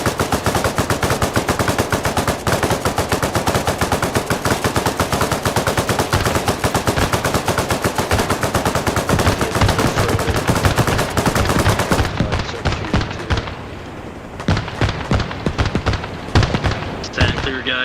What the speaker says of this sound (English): Hey guys, destroy the mortars, start shooting at them.